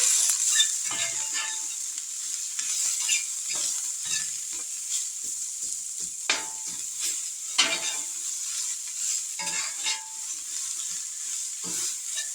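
Fried cabbage with smoked sausage and onions sizzles in a skillet while a utensil stirs it, giving a steady hiss and frying crackle with scattered scraping clicks throughout. No one speaks.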